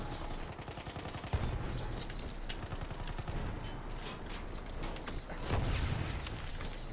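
Dense, continuous gunfire with rapid bursts and heavy booming hits from a Battlefield 1 multiplayer battle on the Fort de Vaux map, with rockets being spammed. Loud and close, with stronger blasts around the middle and end.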